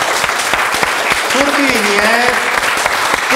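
A school audience gives loud, sustained applause for a teacher at a student event, close and continuous clapping with voices calling out over it.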